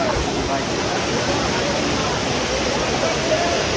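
Lihonjar waterfall in Karbi Anglong pours in a steady, loud roar of rushing water that stays unbroken and close throughout.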